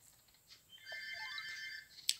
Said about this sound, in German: Und da klingt das Telefon.